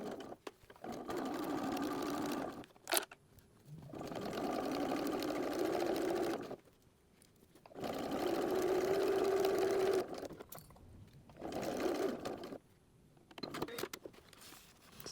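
A sewing machine stitches across hook Velcro in several bursts of steady, close mechanical whirring, each separated by short pauses with soft handling clicks.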